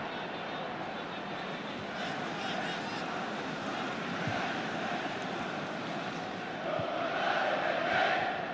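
Stadium crowd at an AC Milan vs Juventus Serie A match, a broad, steady roar of distant voices that swells near the end, under a commentator's speech.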